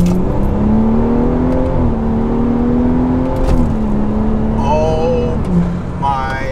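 A car with a Stage 3 XHP transmission flash pulls at full throttle. The engine drones loudly and steadily, and its pitch steps through gear shifts. A brief exclamation comes near the start.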